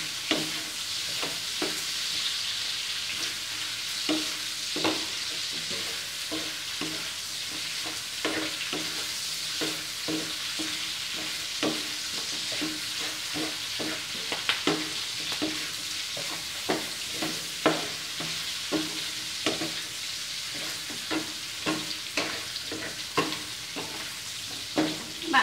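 Pork for Vietnamese head cheese stir-fries in a pan until golden, with a steady close sizzle broken by frequent scraping and stirring clicks from a utensil against the pan.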